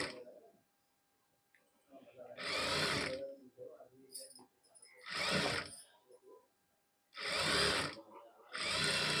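A sewing machine stitches fabric in four loud, sustained bursts of whirring motor noise, separated by quiet pauses with faint handling sounds in between.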